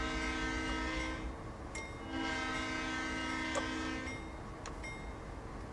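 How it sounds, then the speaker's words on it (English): Santa Fe C40-8W diesel locomotive horn in a train simulator, sounding in two long blasts and a short toot over steady engine rumble, moderately loud with no talk. "It's a pretty decent sort of horn."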